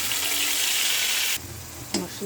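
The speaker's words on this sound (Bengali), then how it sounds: "দিয়ে তেলের ভিতরে ভালো করে কষিয়ে নেব।" Ground chilli paste and spices fry in hot oil for fish curry with a loud, hissing sizzle that cuts off abruptly, followed by a quieter stretch with a short clatter and a voice.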